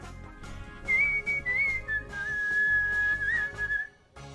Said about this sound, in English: I can't whistle very loud today.